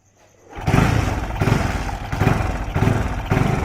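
A Bajaj Kawasaki Caliber motorcycle with low fuel in the carburetor, started on choke, catches after a quiet moment and runs as a loud, close engine with a rough, pulsing rhythm that rises and falls steadily.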